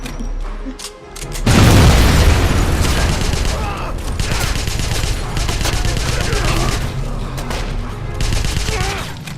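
Enemy soldiers open fire in Wolfenstein (2009), a loud, sustained barrage of rapid automatic gunshots and booming impacts that runs for several seconds, with a voice talking underneath.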